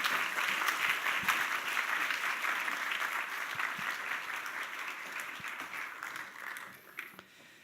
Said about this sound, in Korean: 나오실 때 우리 큰 박수로 우리 환영 맞이하겠습니다.